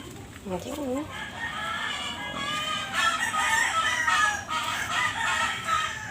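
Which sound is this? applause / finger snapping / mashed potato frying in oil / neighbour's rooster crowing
neighbour's rooster crowing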